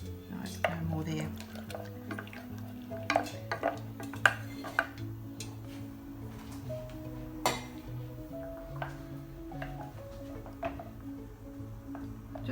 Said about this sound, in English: Just mix that until it's completely dissolved.